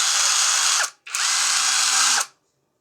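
A Sumumtor 21V brushless cordless electric rivet gun runs in two loud, close motor bursts with a short gap between them, whining steadily and then cutting off, with no talk over it.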